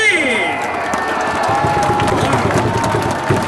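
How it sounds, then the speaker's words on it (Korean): A large crowd in a baseball stadium claps and cheers for a player, a roaring wash of applause and shouts blended with amplified sound and voices. "자 우리 황대희 선수에게 이럴 때도 힘내라고 다시 한번 박수를 부탁드리겠습니다"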